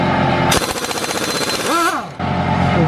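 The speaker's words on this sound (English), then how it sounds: "We need to fucking turn that compressor on." Pneumatic impact tool on an air compressor during an RB30 engine and dog box gearbox install in a 180SX, a loud close rattling burst of rapid hammering lasting about a second and a half, with a voice over the end.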